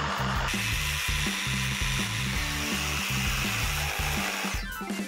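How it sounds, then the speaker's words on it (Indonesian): A coping saw cuts through wood in a steady rhythm of rapid rasping strokes, close and fairly loud, running continuously for several seconds before stopping near the end. "Waktunya gergaji ukir."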